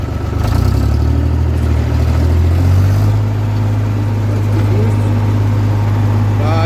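A tractor's power take-off driving a rotavator in a garden: a loud, continuous low engine drone that climbs slightly in pitch partway through, then holds a steady mechanical hum, with no voices over it.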